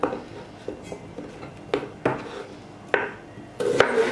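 Potatoes sliced into thin strips with a knife on a board, producing several sharp, close chopping knocks at an irregular pace, with a denser burst of cuts near the end.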